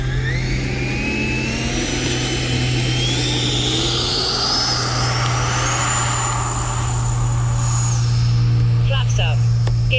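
Electric ducted fan of a Freewing F-22 Raptor RC jet on a 6-cell battery spooling up as the throttle opens, a loud rising whine climbing steadily in pitch over a steady low hum, with faint talk underneath.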